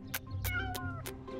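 A cartoon cat meows several times in short, close, moderately loud cries spaced across a brief moment, with a soft background score underneath.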